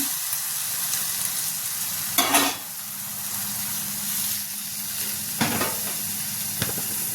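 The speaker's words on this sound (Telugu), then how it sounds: "వేగాక ఒక రెమ్మ కరివేపాకు అలాగే ఒక హాఫ్ స్పూన్ పసుపు వేగాక టమాటా వేసుకున్నాం" Tomatoes frying in a pan with curry leaves and turmeric, a constant hissing sizzle close by, punctuated by a few sharp stirring scrapes.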